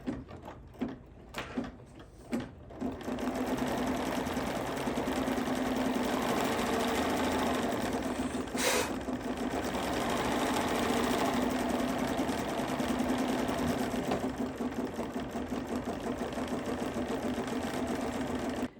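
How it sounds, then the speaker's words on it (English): An embroidery sewing machine stitches a cover stitch on a snow-themed fabric hot pad. A steady, fast, humming mechanical drone runs continuously after a few short starting clicks, with one brief louder burst midway. "And now we'll be stitching our cover stitch."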